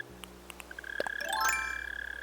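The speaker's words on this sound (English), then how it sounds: "I'm like so upset at mole crickets that the sound is bothering me" Mole crickets in Animal Crossing New Horizons give a steady, faint, high-pitched chirping drone, joined by a few brief game chimes and a rising tonal flourish.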